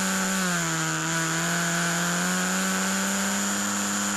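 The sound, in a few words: Historic Formula Ford race car accelerating out of a corner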